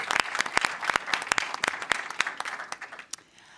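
Applause for a finalist at the online grand finale of a university challenge: sparse, distinct claps from a small group, sharp and close, continuing for a few seconds before dying away.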